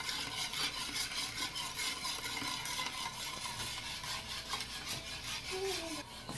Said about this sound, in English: we're going to put our sugar, and then we're going to mix until it dissolves